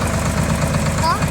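A farm tractor's engine idles close by with a loud, steady low rumble and a throbbing, knocking pulse, continuous through the short moment.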